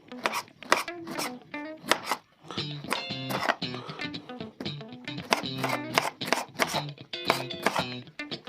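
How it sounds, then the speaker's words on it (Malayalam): Close knife chops on a cutting board as pineapple is cut into small pieces for a shake, coming in quick rhythmic bursts of sharp taps with brief pauses between runs. "ഇതിനെ ചെറുതായിട്ട് അരിഞ്ഞു കൊടുക്കാം."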